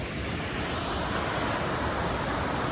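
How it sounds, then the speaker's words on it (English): Steady, dense rushing water of a fast-flowing creek fills the whole clip, a loud continuous roar with no pauses, close by. "That is very quick water."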